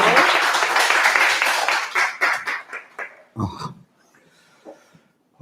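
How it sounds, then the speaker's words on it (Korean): A book-launch concert audience welcomes a professor with applause: a full burst of clapping that thins quickly into scattered individual claps and then fades into near quiet, with a few brief sounds near the end. "힘찬 박수로 이동욱 교수님 맞이하겠습니다"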